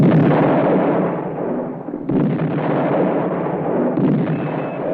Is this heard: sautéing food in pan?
no